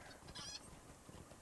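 Chickens cluck and squawk briefly from inside a bag in the fantasy game LOTRO, a short, fairly faint burst of fowl calls over a soft background.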